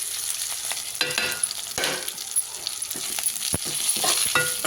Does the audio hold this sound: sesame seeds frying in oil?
yes